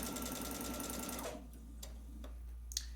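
A sewing machine runs in a fast, even stitching rhythm while sewing quilt squares, then stops abruptly, leaving a quiet hum and a few small clicks and taps.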